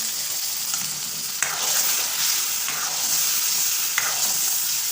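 Dumba mutton karahi sizzles and fries in a pan while being stirred, a steady loud hiss broken by a few sharp scrapes of the spoon, no voices.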